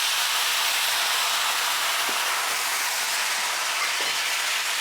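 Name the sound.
white wine sizzling in hot pan with roasting veal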